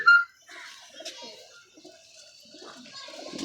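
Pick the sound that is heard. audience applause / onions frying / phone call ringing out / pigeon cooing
pigeon cooing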